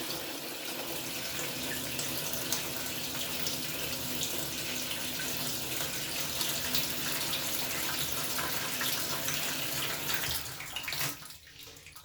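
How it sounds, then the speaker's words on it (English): Tap water pours into a plastic Sterilite tub in a bathtub, a steady loud rushing splash that runs unbroken for several seconds before cutting off near the end. "put water into the sterilite."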